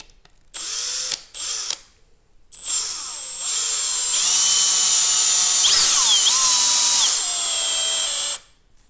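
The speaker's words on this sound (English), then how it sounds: "you have to screw the screws here inside." An electric screwdriver drives screws into a 3D printed repeating crossbow: two short whirring bursts, a pause, then one long steady whine that shifts pitch as the screw tightens before stopping, close and loud.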